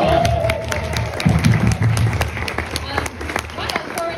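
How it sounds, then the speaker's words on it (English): An audience at a Q&A screening applauds, with scattered sharp claps and cheering over a crowd murmur; a voice talks over part of it. "Round of applause for these."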